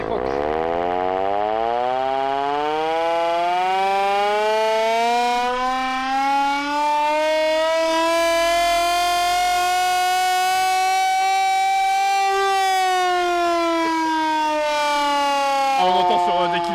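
A 1940 English air raid warning siren winds up loud and close, holding a long rising and falling wail for over fifteen seconds before starting to wind down.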